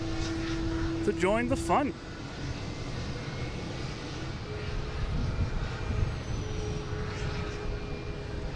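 Swiss airliner in Wanderlust livery taxiing at Boston Logan, a steady engine hum and rumble running throughout under a brief spoken remark and a short whistling chirp near the start.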